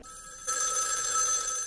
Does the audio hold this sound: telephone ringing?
yes